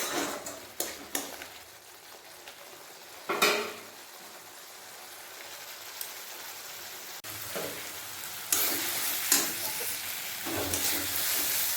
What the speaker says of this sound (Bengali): মশলাটা ভালোভাবে কষে নেব মশলাটা যতক্ষণ না তেল ছাড়া শুরু হচ্ছে ততক্ষণ কষিয়ে নেবো ভালোভাবে